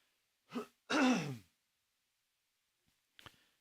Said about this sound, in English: Excuse me, I gotta clear my throat.